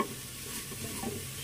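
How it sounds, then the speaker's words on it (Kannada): Masala frying and being stirred in a pan for egg butter masala, a steady close sizzle with soft scraping stirs throughout, no voices. "ಫ್ರೈ ಆಗುತ್ತೆ ಮಸಾಲ"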